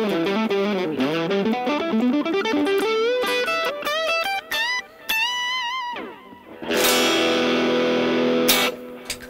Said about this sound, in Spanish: Ahora voy a activar un par de efectos acá onboard que tengo, que son mi reverb y mi delay, y ya tengo un lead tone